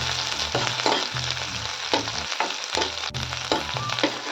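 Red chili and garlic fry in a pan for spicy aloo palak, giving a steady close sizzle with bursts of stirring and spatula scrapes at an even loudness throughout.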